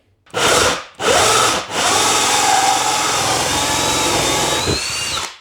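A power drill bores a hole through a shed wall for a mini split install, loud and close, with two short bursts and then one long sustained grinding run that stops near the end.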